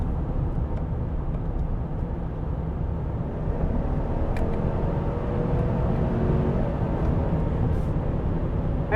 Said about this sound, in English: The RPMs are gonna climb a little higher, a little faster than they would in normal mode.